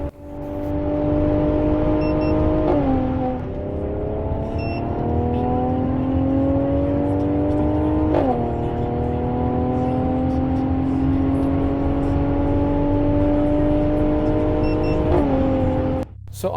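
Mercedes C45 AMG accelerating hard from 100 to 200 km/h, a loud, close engine roar climbing steadily in pitch through successive gears, with the pitch dropping at each of three upshifts.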